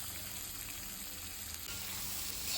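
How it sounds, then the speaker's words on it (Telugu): Chopped onions fry in a little oil for a dry fish tomato curry, a soft steady sizzle heard alone and fairly faint. "ఇది కొంచెం ఫ్రై అవుతుంది"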